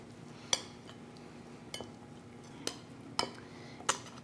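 A salmon topping of capers and olive oil being mixed in a bowl, heard as a handful of sharp, sparse clinks of a utensil against the bowl spread over several seconds with quiet pauses between them.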